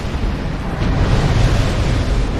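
An explosion in Dark Souls 2, set off by barrel-carrying enemies, comes through as a loud, dense roaring rumble that fills the whole moment without a clear sharp attack.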